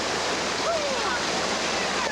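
Whitewater rapids on the Youghiogheny River rush with a constant, dense roar of churning water that holds evenly throughout.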